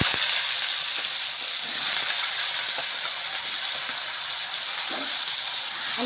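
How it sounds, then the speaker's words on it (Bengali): Diced potatoes fry in salted oil in a kadai, making a steady, close hiss and sizzle with a few faint clinks throughout. "আলুটাকে আমি লাল লাল করে ভেজে নেব।"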